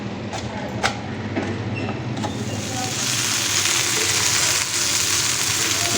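Masala-coated prawns fry in hot oil on a tawa, a loud, steady sizzle that thickens and grows denser after the first few seconds, with a few sharp clicks and crackles near the start.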